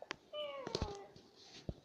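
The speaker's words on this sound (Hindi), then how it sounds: "ये बिल्ली की आवाज, ये हमारे बिल्ली रखी है ना" A pet cat gives a single clear meow with a slightly falling pitch, fairly faint and set among a few soft knocks and background noise.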